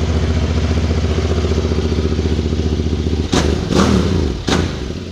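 A QJMotor SRT 600 Touring motorcycle engine runs with a loud, steady close-up throb, then breaks into three sharp revs near the end, with no talking.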